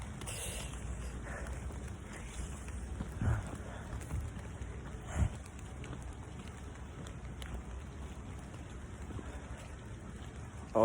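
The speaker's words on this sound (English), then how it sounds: "Hear that? That's all rain." Rain falling during a thunderstorm makes a steady, soft hiss throughout, with a few brief louder thumps and no talk over it.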